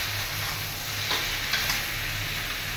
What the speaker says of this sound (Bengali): এবার আমি এই ভাজা আলু আর ঝিঙেটা দিয়ে দিলাম